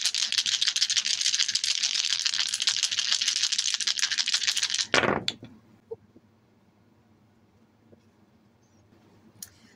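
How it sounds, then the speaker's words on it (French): Several dice rattled vigorously together for a few seconds, then tumbling out with a clatter, followed by near silence and a couple of faint taps. "nous allons commencer avec les dés de sorcière pour le tirage général"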